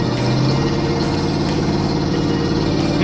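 Pickup truck engine idling and running steadily up close while towing a Toyota Prius, with a truck that has transmission issues; a continuous low drone without talk.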